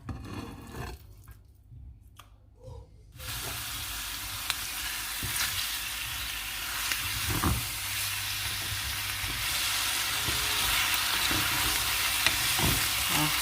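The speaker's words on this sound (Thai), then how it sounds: "เทไก่ใส่กระทะนะคะ" Chicken is poured into a hot pan for an Isan chicken curry with glass noodles. After a few seconds of quiet handling, a loud, steady sizzle starts, with occasional stirring scrapes as it fries.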